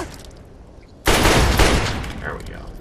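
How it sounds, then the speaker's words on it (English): Automated turret in Fallout 3 opens fire at close range, a loud sudden burst of rapid gunfire that sustains for about two seconds before trailing off. "Got this turret lighting my ass up."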